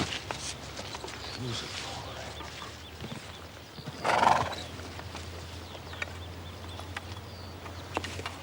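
A lame horse whinnies loudly near the middle, with hooves clopping and shuffling around it; a voice is heard speaking over parts of it.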